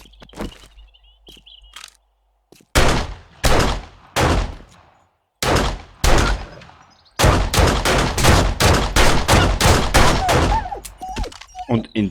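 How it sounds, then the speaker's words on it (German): Gunfire in the 7 Days to Die video game comes in bursts, first a few separate shots and then a rapid run of sharp, loud reports emptying a full magazine, with short pauses between groups. "Und in die Arschlöcher verbratst du gleich mal ein komplettes Magazin."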